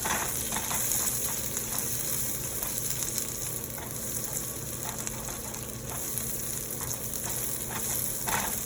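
Onions sizzling steadily as they cook in a pan, a constant crackling hiss with small pops scattered throughout, fairly close and with no talking.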